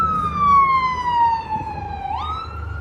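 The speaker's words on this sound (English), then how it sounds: "That guy thought the ambulance was loud." Ambulance siren on the Las Vegas Strip during NFR weekend, a loud, close wailing tone sliding slowly downward, then jumping back up into a new rising sweep over street traffic noise.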